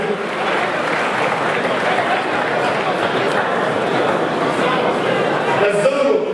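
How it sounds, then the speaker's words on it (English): An audience at a commemorative event marking the 150th anniversary of the Sagrenti War gives a sustained round of applause, a dense, even wash of clapping that holds steady from start to finish. "A round of applause."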